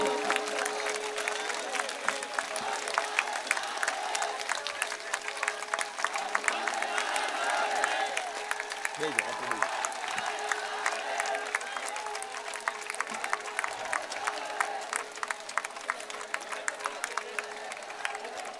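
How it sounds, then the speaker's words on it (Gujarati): A large rally crowd in Banaskantha for Alpesh Thakor claps and cheers continuously, forming a dense, steady roar of applause that holds at an even level for the whole stretch. "કરંટથી તાળીઓ પાડો"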